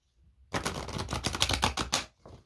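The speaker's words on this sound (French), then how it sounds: "J'arrive même pas à mélanger mes cartes" A deck of tarot cards being shuffled by hand, a dense run of rapid papery riffling and flicking lasting about a second and a half, close and fairly loud, with a short softer flutter after it.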